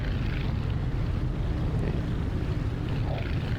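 Steady, loud aircraft engine drone in Microsoft Flight Simulator as the airliner touches down on landing, a broad continuous roar with wind-like rumble holding level throughout, no distinct bumps or spikes.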